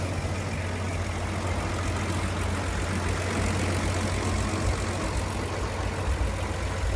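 A 1943 Humber heavy utility military vehicle idles slightly high in a workshop, its engine giving a loud, steady low rumble that stays constant throughout with no talk over it.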